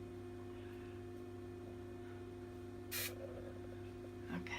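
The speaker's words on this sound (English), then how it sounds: "Now we're going to take some Suave spray. And lifting as I spray," Suave hairspray hisses in one short, close burst as it is sprayed onto hair. A faint second spritz follows near the end over quiet room hum.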